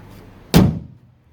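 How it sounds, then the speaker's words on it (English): The tailgate of a 1969 Chevrolet El Camino pickup swings shut with a single solid metal thunk, close and clear, followed by quiet. "Tailgate shuts nice"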